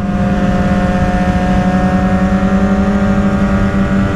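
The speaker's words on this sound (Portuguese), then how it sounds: "Ronca pra caramba." Suzuki GSX-R SRAD 750 sport bike with a loud, steady engine roar held at high revs throughout, continuous and close with no pauses.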